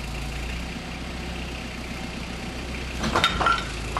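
A vehicle with its front diff lock engaged idles with a low, steady engine rumble as the clutch is released, with a short burst of clunks and rattles near the end as it begins to move off.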